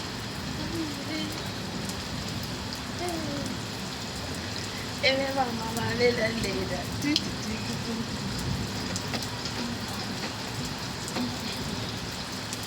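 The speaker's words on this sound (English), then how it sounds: "Bathing in the rain" Rain falls steadily outdoors while people play in it, a continuous patter and splash throughout with brief shouts and singing voices rising over it midway.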